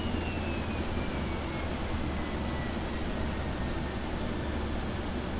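An aircraft engine in the X-Plane 12 flight simulator runs at idle, a steady, even broadband hum and rush with a faint high whine, constant and unbroken throughout.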